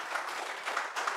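Soft, steady applause from a podcast studio crowd, a dense wash of clapping that stays low and even for about a second with no voices over it.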